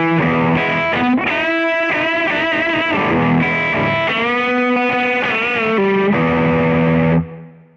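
An electric guitar played through distortion and effects rings out in sustained unison bends, bright pitches sliding upward and merging over several phrases, loud and close before the last note is cut off.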